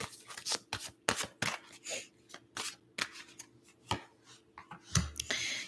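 Tarot cards are shuffled and drawn by hand at close range, giving a series of sharp riffles and soft slaps in irregular bursts, with a louder flurry near the end and no talking.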